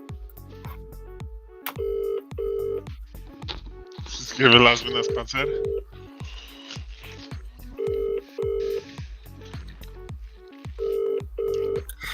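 A phone call rings out through a speaker, with repeated paired ring tones in a steady cadence and a short burst of noise partway through, under quiet background sounds and a brief bit of speech.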